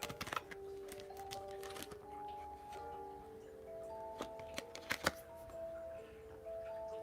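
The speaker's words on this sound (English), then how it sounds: "I only have 2 cards and I'm trying to shuffle" Two tarot cards are shuffled by hand, making scattered soft taps and quick clicks at uneven moments over faint steady background tones.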